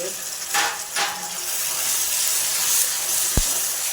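Grated tomato paste goes into onions frying in a pan for a Bombay duck biryani, giving a loud, steady hiss of sizzling with a few scraping stirs and a sharp knock near the end.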